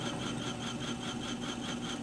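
Tapping head with a clutch threading a hole in steel for a liner lock knife, a steady continuous mechanical whirring hum with a rhythmic scrubbing pulse as it runs back and forth, close and alone without talk.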